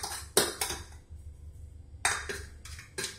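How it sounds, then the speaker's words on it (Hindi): Spoon clinking against a small dish while mixing ground rock sugar, a few quick scrapes and taps in two bursts separated by a short pause, close and quiet with no talking. "एक छोटा चम्मच पीसी हुई मिश्री डालेंगे और इस मिश्रण को हम इस प्रकार से मिक्स करेंगे"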